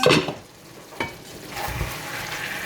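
Chicken afritada stirred in a pot over medium heat, a close scraping stir over a soft steady sizzle with a couple of brief clanks of the utensil.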